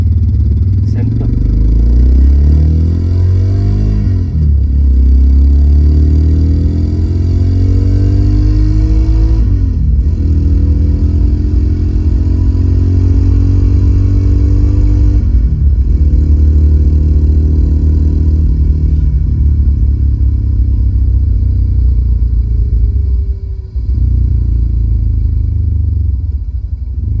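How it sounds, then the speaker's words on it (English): A four-stroke motorcycle engine recording plays through a 3-way active audio setup in a Kia Seltos. The engine revs up and drops back in loud, repeated sweeps about every five seconds over a steady low rumble. "It's a four-stroke two-wheeler."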